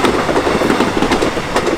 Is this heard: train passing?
yes